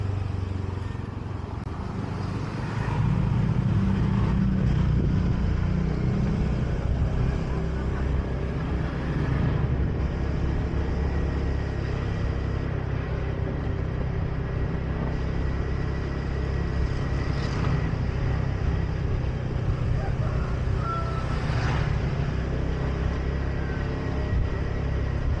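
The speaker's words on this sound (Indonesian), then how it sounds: "Beberapa motor dan mobil sesekali melintas" Motorbikes and cars pass now and then along Jalan Kelayan A and Kelayan B, a lively Banjarmasin street, their engines making a continuous low rumble of traffic nearby throughout, with no talking.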